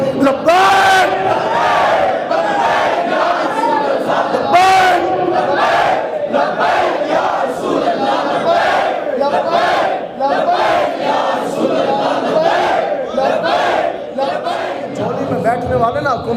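Large crowd at a religious gathering loudly chanting the Labbaik Ya Rasool Allah slogan, rhythmic massed voices rising and falling in repeated bursts, close and loud throughout.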